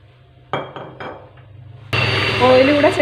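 An electric beater churns cake batter of sugar and sunflower oil for an oven-free Black Forest cake. A few light clinks come first, then the motor kicks in with a loud, steady whirring drone that runs to the end.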